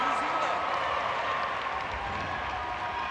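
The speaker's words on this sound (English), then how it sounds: "And that brings a big cheer." A sustained roar of crowd applause and cheering at a Netball World Cup 2023 match fills the space, steady and moderately loud, with a commentator's voice talking over it.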